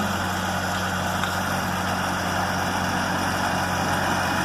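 A tractor engine idles steadily and continuously, a loud, even low rumble with no pauses and no voices over it.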